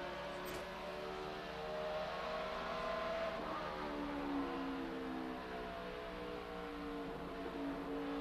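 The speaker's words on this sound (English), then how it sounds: "he just drove underneath Tony Stewart in that 14" NASCAR race cars roar around the Phoenix track in a 2011 race, a dense, continuous engine drone with shifting pitches as cars pass, heard from a distance and fairly quiet overall.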